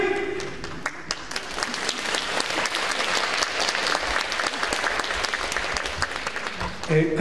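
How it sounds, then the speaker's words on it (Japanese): An audience at the 12th National Tiger Dance Festival applauds to welcome the Nakaniida fire-prevention tiger dance troupe, with crisp, lively clapping building and holding steady before a voice briefly emerges near the end. "どうぞ拍手でお迎えください"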